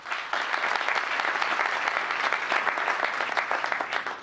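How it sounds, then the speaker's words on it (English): An audience at a mayor's civic forum breaks into steady, close applause lasting about four seconds, a continuous crackle of many hands clapping with no talk over it. "Patrick, here, a big round of applause"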